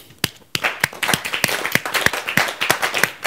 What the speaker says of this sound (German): Und jetzt nochmal einen kräftigen Applaus.